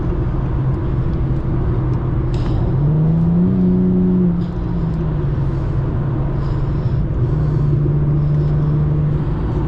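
Car engines in a street race between an Infiniti G37 and a 2018 Toyota Camry XSE V6, a loud steady roar with a rising and falling rev swell midway, heard from inside a moving car.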